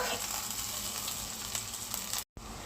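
Onions, carrots and green chillies sizzle steadily in hot oil in a pan while egg fried rice is cooked, a close continuous frying hiss broken by one brief gap near the end.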